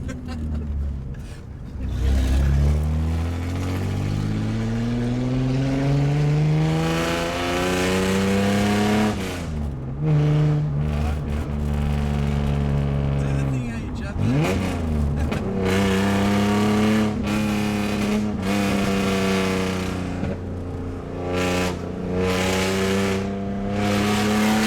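A Holden VL with extractors and a 2.5-inch straight-pipe exhaust, no cat and no mufflers, roars loud and raw as it drives, revving up and down repeatedly with harsh, rising and falling engine tones and brief crackling lifts between.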